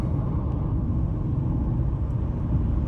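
A car drives fast along a 100 km/h road stretch in Ireland, heard from inside as a steady low engine and road rumble, moderately loud and unbroken, with no voices.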